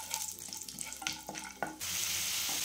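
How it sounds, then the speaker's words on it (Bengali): Cumin seeds, cinnamon, green cardamom and cloves in refined oil in a kadai: a few soft clinks, then a steady, fairly quiet frying sizzle. "কড়াইতে দিয়ে দিলাম রিফাইন অয়েল, গোটা জিরা দিলাম 2 চামচ, আর কিছু গরম মশলা, দারচিনি, ছোটো এলাচ আর লবঙ্গ দিয়ে হালকা করে ভেজে নিতে হবে"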